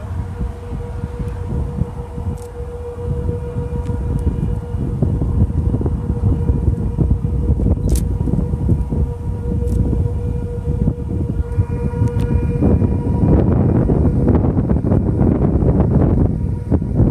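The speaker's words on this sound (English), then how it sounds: "Are they stopping the sirens?" Tornado warning sirens in Paducah, Texas wail steadily across open country, a sustained tone over gusting wind buffeting the microphone, with no talk.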